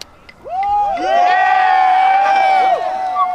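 A rally crowd cheers after a verdict convicting an NYPD police officer, with loud whoops and rising and falling shouts that swell together and hold for several seconds.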